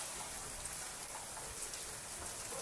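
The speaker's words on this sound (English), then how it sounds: "it's raining hard suddenly." Heavy rain from a squall pours down on a sailboat in a steady, dense hiss, constant and enveloping, with no voices or other sounds.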